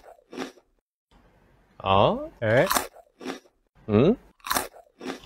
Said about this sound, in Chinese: 因为它薄脆真的很薄，所以呢在咬开饼干的时候呢会有非常清脆的这个咔嚓咔嚓